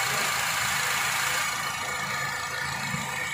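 A 2015 Honda CR-V automatic engine idles steadily at close range, a constant broadband hum with no voices over it.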